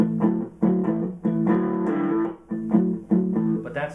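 A tight two-string blues guitar vamp repeats in an even shuffle rhythm, about eight short chugging strums in a few seconds, close and clear with no talking.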